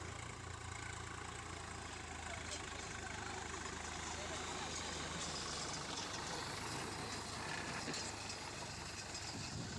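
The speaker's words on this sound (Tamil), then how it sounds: "எப்படி டிராக்டர் இயங்குதுன்னு மட்டும் பாருங்கள்." A farm tractor idles with no load, its engine giving a steady, continuous mid-range rumble that stays close and fairly loud throughout.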